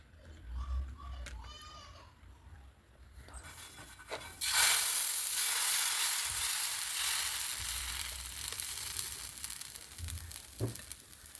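Vallarai (pennywort) greens sizzle steadily in hot oil, rising loudly partway through, with children's voices and faint clatter in the background.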